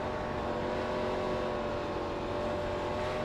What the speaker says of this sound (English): it sounds like you're wanting to get into the throttle maybe a little too soon